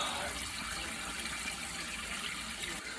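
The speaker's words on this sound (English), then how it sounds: "And now I'm just cooling them down with cold water." Cold tap water runs steadily into a pot of boiled potatoes in a home kitchen, a constant close hiss and splash with no break.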